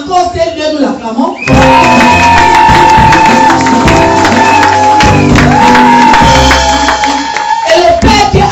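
Church congregation shouting, whooping and cheering in acclamation, loud and sustained, with a voice leading over the crowd throughout.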